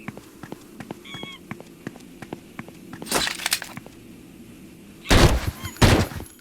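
Gunfire aimed at the player in the video game Hellforces, heard as two loud rapid bursts of cracking shots over a background of scattered clicks and footsteps.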